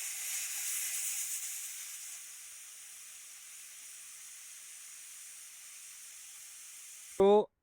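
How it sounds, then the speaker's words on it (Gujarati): A pressure cooker holding sour okra bhaji and dal sits on a gas stove, hissing steam steadily for several seconds before a sudden, loud, short whistle blast at the very end. "તો 4 સીટી વાગી ગઈ છે."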